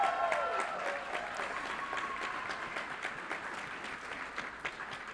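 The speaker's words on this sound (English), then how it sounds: "Let's give him and his coach another round of applause." Audience applause at a school board meeting honoring a student athlete and his coach, a sustained burst of many hands clapping that gradually eases, with a brief faint voice near the start.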